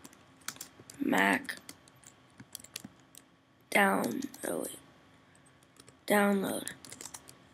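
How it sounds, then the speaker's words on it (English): Rapid key clicks from a Mac computer keyboard come in three short bursts, close and crisp, with someone talking between and over them. "you're going to type in Soundflower"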